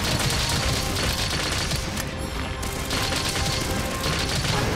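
Bowgun fire in Monster Hunter Rise, a dense, continuous barrage of rapid mechanical shots and impacts, loud and steady throughout with a brief thinning midway.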